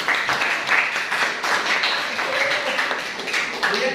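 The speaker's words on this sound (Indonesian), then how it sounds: "Bagus sekali, tepuk tangan." Classroom of students clapping, a brief ragged patter of many hands at moderate level, fairly close, with faint voices mixed in.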